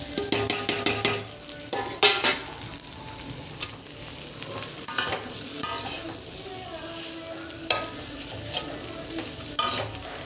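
Raw peanuts and already-cooked potatoes stirred in a Wonderchef kadai for sabudana khichdi: a spoon scrapes and clatters against the pan in bursts over a steady, close frying sizzle, with no talking.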